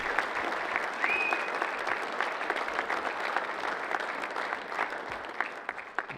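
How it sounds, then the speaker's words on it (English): Applause at a baseball leadoff dinner for Bill Tuscany, many hands clapping in a steady, moderately distant wash that carries on for several seconds with faint voices underneath. "Another round of applause for Bill Tuscany"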